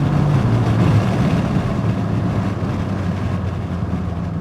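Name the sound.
BMW M5 F10 4.4 V8 twin turbo engine, gear change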